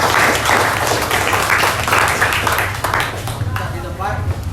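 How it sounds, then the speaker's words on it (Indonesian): A classroom audience at a school mock trial breaks into loud, continuous clapping at close range, a busy wash of hands that eases slightly toward the end, with voices mixed in. "Oke, tepuk tangan."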